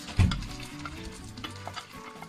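Cooked rice hitting melted lard in a hot wok for soy sauce fried rice, with a loud sizzle at the start followed by a steady frying hiss and the scrape of quick stirring.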